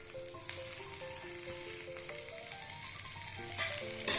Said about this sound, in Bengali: এবার বাকিগুলো দেবো, লঙ্কা আর রসুন কুচি, আদা বাটা আর টমেটো কুচি।